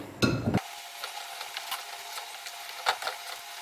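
Stirring beef daal gosht with gourd in a pot, a short burst of scraping and sizzle at the start followed by soft, intermittent clinks and rustles at low level.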